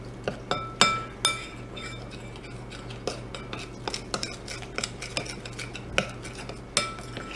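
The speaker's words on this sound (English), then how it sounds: "Just mixing everything in and incorporating all that dry flour before calibrating and deciding what we are going to do about this batter." Dry flour being mixed into walleye batter in a bowl, with a utensil knocking and clinking against the bowl in irregular, sharp taps over a quiet, steady background.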